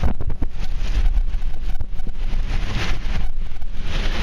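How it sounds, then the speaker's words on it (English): Strong, gusty wind roars into the microphone during a dust storm in a Phoenix store parking lot, a continuous loud buffeting rush with sharper blasts, no voices. "The wind's picking up again."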